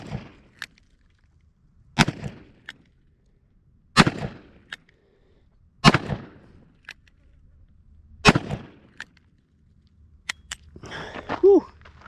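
Handgun shots fired outdoors at a morning shoot, single loud cracks spaced roughly two seconds apart with short echoes, and a brief voice near the end.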